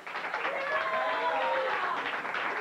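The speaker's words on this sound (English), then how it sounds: "give Tara a nice ball clap" Studio audience applause on a late night talk show, a steady wash of clapping with crowd noise that holds at an even level throughout, with voices faintly mixed in.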